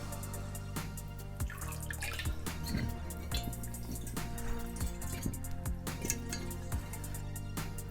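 Filtered water pours and trickles into a container for winemaking secondary, with dripping and splashing sounds continuing steadily and fairly quietly throughout.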